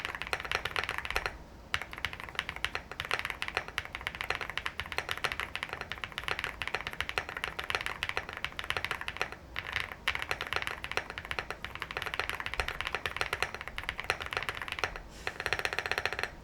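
Typing on an Evo75 mechanical keyboard fitted with upgraded aftermarket keycaps: a dense, steady stream of close, crisp key clacks with occasional brief pauses, heard alone without any voice.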